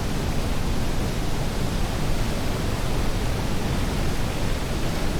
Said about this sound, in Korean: 산 위의 빙하가 직접 흘러내려온 물이기에 색깔이 아주 특별한 폭포다.